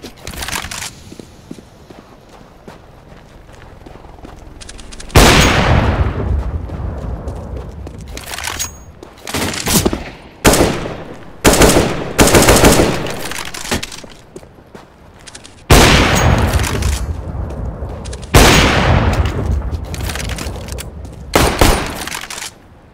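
Rapid bursts of gunfire in the video game CS:GO, loud repeated volleys and single shots separated by brief quiet gaps, with faint footsteps between engagements.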